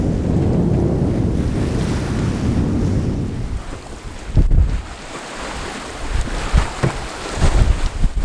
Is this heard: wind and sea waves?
yes